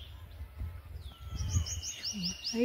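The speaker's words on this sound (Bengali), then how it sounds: "পাখির ডাক।" Birds call in a quiet village in Godda, Jharkhand: a series of bright chirps and a rising whistle, faint to moderate, over low rumbling background noise, with a brief spoken word.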